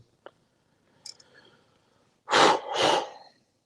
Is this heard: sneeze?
yes